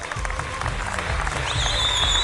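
Studio audience on a Pakistani television game show claps in a sustained burst, a warm dense wash with a faint voice and music blending underneath.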